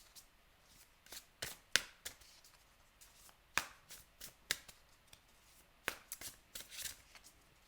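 Tarot cards being drawn and laid out on a surface, a series of soft, crisp card snaps and slaps at irregular intervals, close and quiet with no talking.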